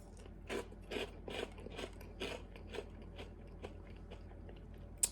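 Dry mixed breakfast cereals, including Reese's Puffs and Cinnamon Toast Crunch, crunched in the mouth close up, a rhythmic series of crisp bites and chews fading into softer chewing, with no talk.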